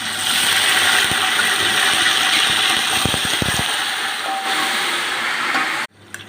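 Steady loud sizzling hiss as water is added to browned frying onions in a pan, with a few sharp crackles, then an abrupt stop near the end.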